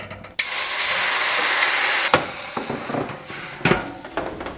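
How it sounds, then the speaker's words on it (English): Cold water poured into a hot pan in an oven while baking Mexican bolillo rolls bursts into a loud, sustained steam hiss and sizzle that fades with a few crackling pops and clatters. "the cold water, meaning the hot pan, is gonna create the steam"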